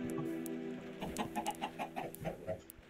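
Minecraft chickens cluck in a quick string of short, soft bursts close by over a faint game background, and no one is talking.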